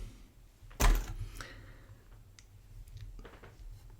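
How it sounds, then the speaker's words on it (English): A Yale Y126 combination padlock snaps shut with one sharp metallic clack, followed by softer faint clicks as its dials are spun and scrambled, heard close and alone. "Then to lock it, close it, mix the wheels up."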